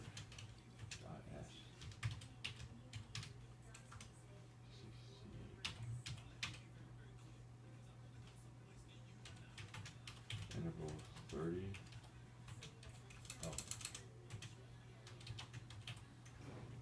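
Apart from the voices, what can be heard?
typing on computer keyboard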